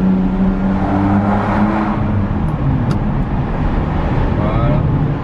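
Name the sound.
Ferrari V12 engine roaring while accelerating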